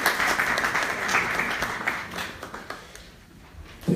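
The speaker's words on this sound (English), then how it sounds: "Let's give him a round of applause." An audience applauds a speaker being welcomed: a dense burst of clapping that gradually thins and fades out.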